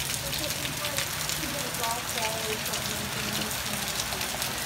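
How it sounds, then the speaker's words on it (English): Heavy hail falls at night in a dense, steady hiss and patter of impacts, with faint voices talking in the background under the continuous downpour. "You should see truly how much hail is falling."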